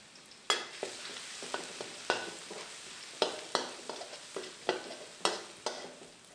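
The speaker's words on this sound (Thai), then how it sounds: "เราจะเจียวกระเทียมก่อนนะครับ" Chopped Thai garlic fries in oil in a pan, a steady crackling sizzle punctuated by a dozen sharp scraping clicks of a spatula stirring it at a roughly regular pace, close and fairly quiet, with no talking.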